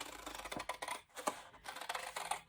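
Scissors cut through a paper business envelope along its printed lines, producing a run of quiet, close snips and paper rustles with no talking.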